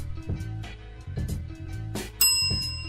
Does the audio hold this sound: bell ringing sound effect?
yes